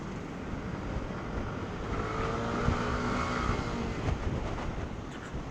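A Kymco Skytown 150 scooter engine idles steadily and close by, a low continuous rumble with a faint whine that rises slightly in the middle before settling.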